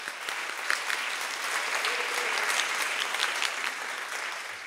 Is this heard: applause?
yes